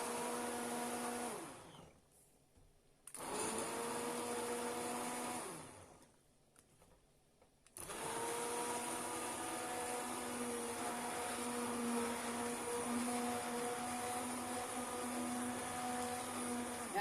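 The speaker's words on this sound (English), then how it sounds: "be sure and leave that immersion blender under when you turn it on." An immersion blender whirs through pear, cranberry and apple jam in short bursts, stopping twice before running steadily to the end, a loud close motor drone with no talk.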